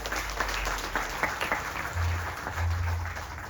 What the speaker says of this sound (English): Let's give our organizers a round of applause